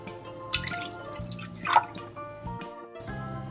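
Water is poured into a pot to make rice flour dough, with short, soft splashes and drips in separate bursts, close and fairly quiet.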